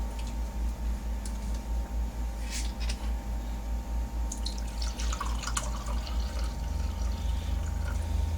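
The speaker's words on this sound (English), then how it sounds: "We are going to put our vinegar in and our water." Apple cider vinegar and water pour into a stainless steel pot for pickled eggs, a light trickling splash over steady low hum, with drips and faint splashing toward the end.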